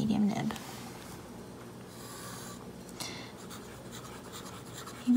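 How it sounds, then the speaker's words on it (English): Medium-nib fountain pen scratching across paper, a faint, close, continuous rasp of strokes with slight swells, and a voice briefly audible at the start and end. "You might be able to hear, I don't know if you can, the little scratchiness."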